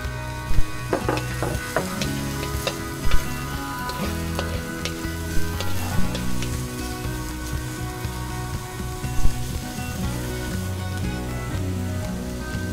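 Onions sizzle steadily in a hot frying pan for Kapampangan revuelto and fried rice, a dense continuous crackle with occasional louder pops and stirring scrapes, close and alone with no talk.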